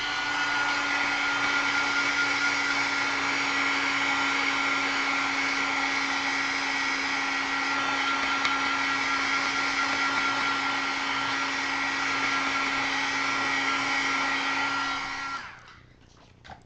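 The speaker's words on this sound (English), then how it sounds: "I'm going to give it a quick heat set and make sure it's dry." A heat tool blows a steady, loud whir as it dries Versamark ink on a handmade card. The sound runs unbroken for about fifteen seconds, then cuts off abruptly.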